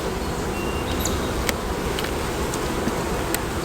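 Honey bees swarm densely around beehive frames, a continuous loud buzzing drone with no voices.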